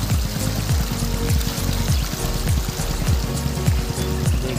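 Biofloc tank water churns and splashes continuously as fish rise to take feed at the surface, a close, loud, busy burble with a steady low mechanical hum underneath.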